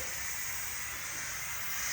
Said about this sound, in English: The Instant Pot is releasing steam.